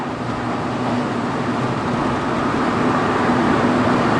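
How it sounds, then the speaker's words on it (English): A continuous low engine drone from a 270 bhp Mini JCW Roadster with an Akrapovic exhaust, constant rumbling exhaust note, steady and loud throughout, with no breaks or revving changes. "You really get to hear that Akrapovic exhaust."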